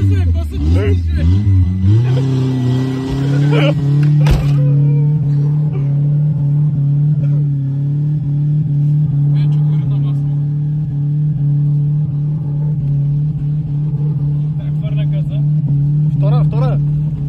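A car engine revs and pulls hard under throttle during an attempt to wreck a very tough car, a steady loud drone with rising pitch, while people shout over it throughout.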